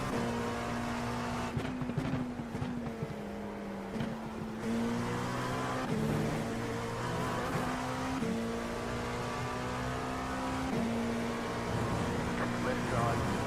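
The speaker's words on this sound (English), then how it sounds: "Like, this car sounds really bogged down." An LMP2 prototype race car in iRacing at Watkins Glen during a six-hour race, its engine droning steadily with shifting pitch, sounding sluggish and bogged down, a continuous loud hum without pauses.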